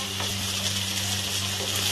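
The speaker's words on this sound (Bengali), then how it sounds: "ভালো করে এটা কষে দিলাম, ঢেঁড়সটা দিয়ে, সর্ষেটা দিয়ে," Okra with mustard paste being stir-fried in a pan, giving a steady, even sizzle throughout with a low hum underneath and faint stirring touches. No one speaks.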